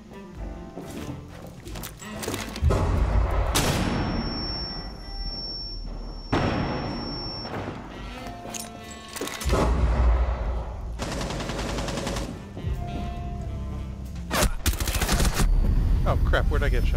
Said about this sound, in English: They're shooting in from here.